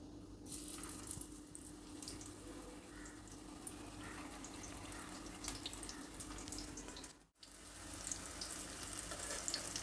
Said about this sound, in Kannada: ಈಗ ಎಣ್ಣೆ ಬಿಸಿಯಾಗಿದೆ ರೆಡಿ ಮಾಡಿ ಇಟ್ಕೊಂಡಿರೋ ಈ ಬಿಲ್ಲೆಗಳನ್ನು ಎಣ್ಣೆನಲ್ಲಿ ಇಡ್ತಾ ಇದ್ದೀನಿ